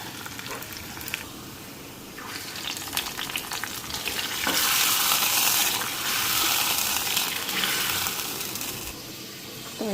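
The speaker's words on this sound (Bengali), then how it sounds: "ভালো করে এটা একটু লাল লাল করে ভাজা নিই," Onion and garlic frying in hot oil, with a steady close sizzle and occasional stirring that grows louder and more intense halfway through.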